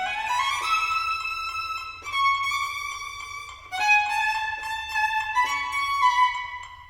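A violin plays a quick etude passage of steady, evenly articulated notes at a brisk tempo, close and clear, with no talking over it.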